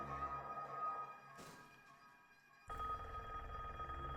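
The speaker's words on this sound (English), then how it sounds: "he hears ringing." A telephone rings faintly in an empty house across the street, amid a muffled, humming background, with a short break before the ringing resumes.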